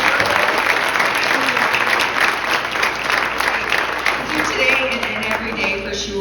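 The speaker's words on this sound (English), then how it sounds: "can we please give a round of applause for Jenny and her team" Audience applause at an awards ceremony, a steady dense wash of many hands clapping that stays loud and even throughout.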